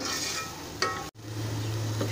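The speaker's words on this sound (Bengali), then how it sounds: "সবজিটাকে আমি একটু নেড়েচেড়ে ভেজে নিলাম" Vegetables stir-frying in ghee in a pan for a vegetable egg soup, a steady soft sizzle with a couple of stirring clinks from a spoon against the pan, close by and without talk.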